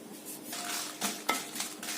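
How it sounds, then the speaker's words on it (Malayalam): Dried red chillies sizzle steadily in coconut oil in a pan over medium flame, with a few sharp clinks and scrapes of a utensil stirring. "ഈ മുളക് ഒന്ന് വറുത്തെടുക്കണം."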